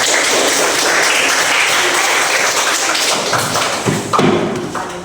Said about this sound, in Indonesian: tepuk tangan untuk kelompok 1 sampai 5